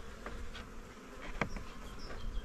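Italian Cordovan honey bees buzz on a hive frame of honey after wintering, a soft, steady insect hum with brief louder passes of individual bees close by.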